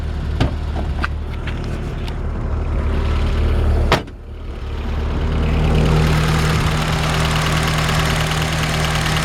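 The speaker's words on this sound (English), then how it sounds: "I'm leaving the car running for just a sec so I can let you hear the engine." A 1980 Fiat 2000 Spider sports car engine idles steadily with a low rumble; a sharp knock or click about midway, then the idle continues evenly.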